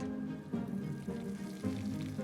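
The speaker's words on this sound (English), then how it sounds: "You hear the sizzling? That means that the pan is hot enough." Steady crackling sizzle of potato tuna cakes frying in a hot pan, close and continuous, with a few louder spits and pops.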